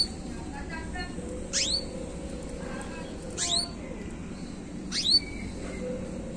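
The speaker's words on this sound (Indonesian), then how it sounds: "Tapi burungnya ini kok bunyinya kaing-kaing ya, kayak burung emprit aja." A caged bird gives three sharp, rising chirps spaced a couple of seconds apart over quiet room noise.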